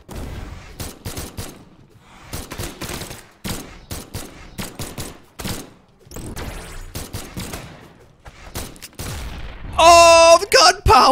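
Brawlhalla ranked 1v1 match with Koji and Vraxx: rapid bursts of game gunfire and sharp impact hits crackle in quick clusters separated by short gaps, ending in a louder ringing flurry of effects.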